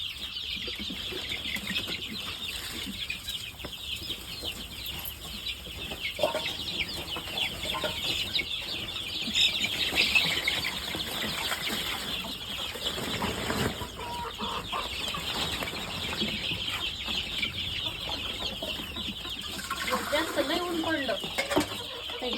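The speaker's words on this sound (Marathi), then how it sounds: "इकडं मोठाल्या कोंबड्या येतात" Chickens cluck softly around a home farm, faint scattered clucks and rustling in a quiet setting with a person speaking at times.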